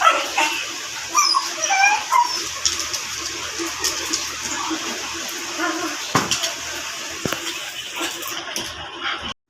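Several pet dogs inside a house bark and yip loudly, with excited high-pitched yelps and whimpers that come in clustered bursts close by, tapering off near the end.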